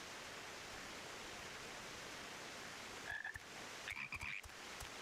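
A pair of short, croaky calls cut through a steady, hissing wash of ambient noise in Final Fantasy XIV Endwalker, the toad croaks brief and fairly faint against the constant background roar.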